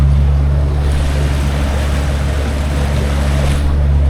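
A Parsun 60hp four-stroke outboard motor runs steadily at 2000 RPM during break-in, giving a constant low, even hum blended with water and wind rush, with no talking.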